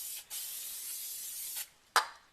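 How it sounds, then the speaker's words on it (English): Brake cleaner sprayed from an aerosol can onto a front brake disc of a diesel Land Rover Freelander 2, two long close hissing bursts with a short gap between them, then a sharp clack. "We got some just Alfred's brake cleaner."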